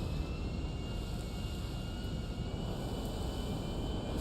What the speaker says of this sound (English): if a plane like this stalled in real life at this altitude, it would not be able to recover.